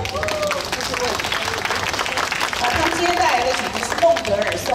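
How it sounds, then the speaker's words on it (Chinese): An audience applauds to welcome a student piano trio of violin, cello and piano; steady, dense clapping fills the whole stretch, with faint voices mixed in. "让我们的热烈掌声欢迎钢琴三重奏的小提琴叶耀凯、大提琴刘亮言、钢琴严思雨同学"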